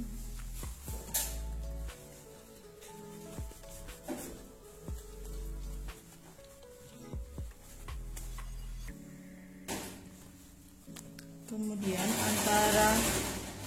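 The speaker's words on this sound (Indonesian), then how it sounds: "karet elastiknya ini kita tumpuk lalu kita jahit." A sewing machine stitches stacked elastic onto a pleated skirt in short, intermittent runs, with quiet handling between them and a longer, louder run near the end.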